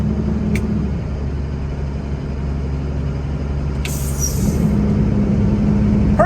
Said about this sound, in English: So if the fan is going, go ahead and click it off just to see if it turns off.